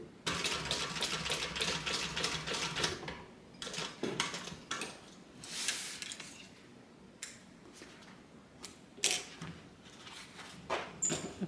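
Sewing machine stitching a bag strap forward and then back-stitching, with bursts of fast whirring mechanical chatter broken by short pauses and light handling clicks.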